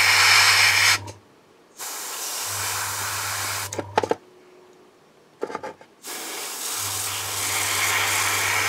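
Airbrush spraying paint onto a Warhammer 40,000 Leman Russ tank model, several close steady hissing bursts of a few seconds each, separated by short pauses with faint handling clicks.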